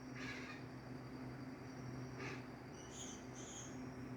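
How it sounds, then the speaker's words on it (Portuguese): A domestic cat making faint, short high-pitched chirps that resemble a bird, several brief calls spaced over a quiet background hum, with no talking. "Esse gato sabe imitar pássaro."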